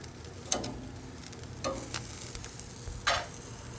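Steaks on a grill above 600 degrees with a stainless steel plate, a low steady sizzle broken by a few sharp scraping clicks and bursts of louder frying as the meat is flipped.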